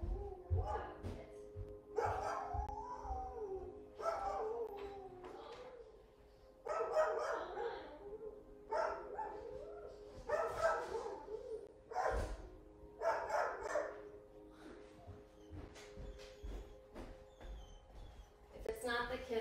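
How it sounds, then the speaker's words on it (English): A dog barks at a backyard fence in irregular bursts of barks and yips, moderately faint and somewhat distant, with a person's voice talking over parts of it. "Barking at the fence."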